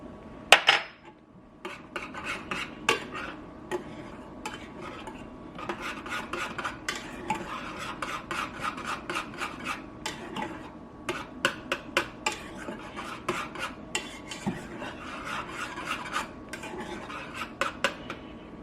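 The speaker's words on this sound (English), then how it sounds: "Whisk that in." A whisk scrapes and rattles steadily against a metal pan as chocolate gravy is stirred after coming to a boil, a close, continuous rasping with frequent sharp clinks.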